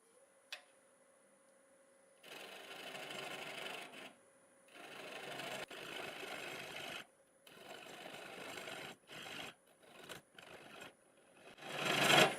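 A hand saw cutting the nub off a black locust wood turning, close rough rasping strokes in several bursts of varying length with short pauses, ending in a louder burst.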